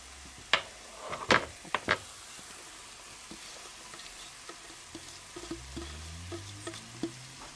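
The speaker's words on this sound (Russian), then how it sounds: "Потихоньку помешивая и доводим этот лук до полупрозрачности" Onion sizzling in a frying pan while being stirred for a cabbage pie filling, a soft constant fry with sharp scraping clicks of the spoon against the pan, irregular and close, with no talking.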